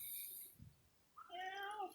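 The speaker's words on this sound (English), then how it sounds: "this is my cat" A house cat meows once, a short drawn-out cry near the end, following a faint soft sound in an otherwise quiet indoor space.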